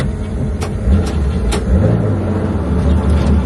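A 1971 Porsche 911 RSR tribute engine runs steadily with a low rumble, then pulls away with rising revs, alone with no talk.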